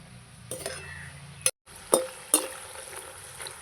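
Nimki frying in oil are stirred in a pan with a utensil, a low sizzle underneath and three sharp clinks of metal against the pan, close and unaccompanied by talk.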